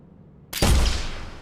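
A gunshot in an Unreal Engine 5.5 game scene with simulated indoor pool reverb, one sharp loud blast after a quiet moment, followed by a long echoing tail.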